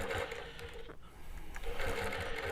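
A longarm quilting machine stitches along a ruler with a steady, fast mechanical whir, close and continuous except for a brief dip partway through.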